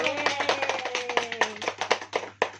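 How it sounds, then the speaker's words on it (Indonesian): A fifth-grade elementary class claps hands in a classroom, with many quick, rhythmic claps in a steady pattern while children's voices sound over them. "tepuk tangan dulu"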